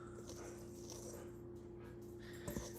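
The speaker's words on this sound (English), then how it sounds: "That's my dog in the background." A dog whimpers and yips faintly in the background of a quiet kitchen, one brief louder yelp near the end.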